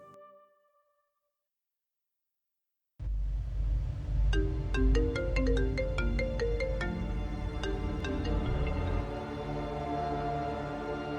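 A phone tone rings steadily after a silent pause, a repeating melodic ringback pattern over a low hum, heard on an outgoing call in a Assamese drama scene.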